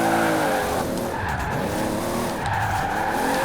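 A front-engined Toyota Supra with a twin-turbo 2JZ drifts in the racing game Forza Horizon 4, its tires squealing loudly and continuously over the engine's drone through the whole stretch, with no talking.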